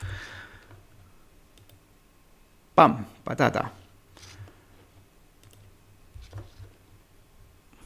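A computer mouse clicks a few times while building a Word macro, with soft taps and clicks scattered over quiet room tone and brief spoken words from a nearby voice.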